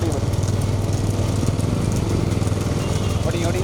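A motorcycle engine revs and burbles continuously up close at a bullock cart race in Arimalam, Pudukkottai, India, loud and steady, with crowd noise or chatter mixed in beneath it.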